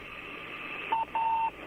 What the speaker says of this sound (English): that is the sound of the radio beacon on the Soyuz spacecraft that is sending signals to the search and recovery forces